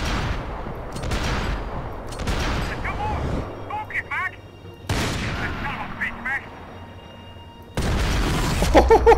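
Gunfire from a shootout in the video game Max Payne 3, with bursts of loud shots and booms separated by quieter gaps, while people talk over the action.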